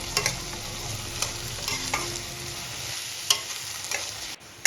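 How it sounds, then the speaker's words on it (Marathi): Capsicum sautéed in a pan with masala Maggi ingredients: a steady frying sizzle with intermittent scraping stirs of a spatula, close and continuous, no talking. "आता आपण शिमला मिरची ऍड करून घेऊया शिमला मिरची पण सर्व साहित्यामध्ये व्यवस्थित परतून घ्यायची"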